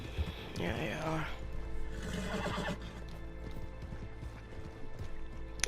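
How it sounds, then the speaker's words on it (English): Horse hooves clip-clop in Red Dead Redemption 2, set on the American frontier, with a loud whinny early on over a steady game ambience and low background tones. "There's your horse."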